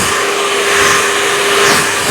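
A handheld hair dryer blows steadily while hair is styled with a round brush, giving a loud, continuous close-up whoosh and hiss that stays even throughout.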